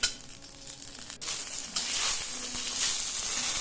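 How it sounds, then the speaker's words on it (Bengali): Two green chillies fry in a pan, a continuous bright sizzle that swells louder partway through, with no talking. "এইটা ভাজা খাওয়ার জন্য বললাম আগে, জন্য দুটো লঙ্কাও ভেজে নিচ্ছি।"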